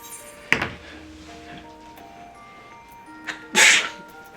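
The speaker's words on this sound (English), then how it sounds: "I like actually sneezed." A single sharp sneeze bursts out near the end over quiet background game music, preceded by a smaller nasal burst and brief thump earlier, all close to the microphone with no talking.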